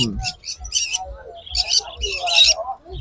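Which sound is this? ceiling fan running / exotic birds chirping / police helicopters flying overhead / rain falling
exotic birds chirping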